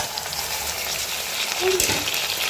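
Chopped onions and tomatoes sauté in a hot pan, giving a continuous close crackling sizzle with a brief stirring scrape partway through.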